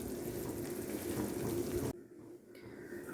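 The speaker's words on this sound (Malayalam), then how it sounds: "ഇതിലേക്ക് നമുക്കൊരു 2 ഗ്ലാസ് വെള്ളം കൂടെ ഒഴിക്കണം." Water pours steadily into a pot of fish curry for about two seconds, a soft, close splashing that then stops, leaving quiet kitchen background.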